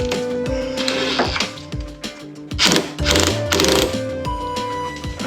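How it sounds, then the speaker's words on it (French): An impact wrench rattles in short, loud rhythmic bursts while tightening a nut and washer on an MVT Millenium ignition fitted to an MBK Nitro or Yamaha Aerox scooter. "Serrez le tout à la clé à choc"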